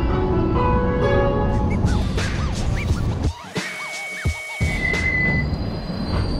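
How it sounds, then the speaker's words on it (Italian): A city tram in Marseille rolling along its rails near the Vieux Port, loud rumble with repeated high metallic wheel squeals rising and falling, a brief drop in noise midway, no talk. "Adesso stiamo prendendo il tram che ci porterà verso il centro"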